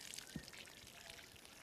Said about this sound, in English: When I'm watering here, I also make sure that I don't pour too much water, not try to splash it too much